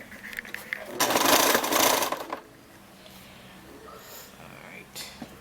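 A sewing machine stitches a fabric seam on a simple elastic dress, a close, loud buzzing run of about a second and a half, then quieter handling noises.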